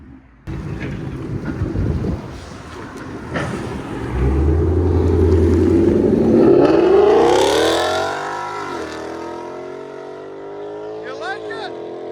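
A 2024 Ford Mustang GT 5.0 V8 with a Borla S-Type cat-back exhaust roars loudly up close, building into a rising rev that sweeps upward and then fades away; a voice speaks over the start.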